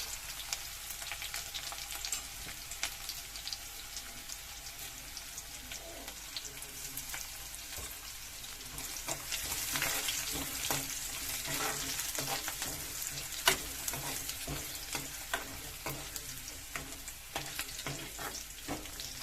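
Ginger and garlic sizzle steadily in hot oil in a pan, a continuous crackling fry with occasional stirring clinks, the sizzle swelling louder partway through; no one speaks.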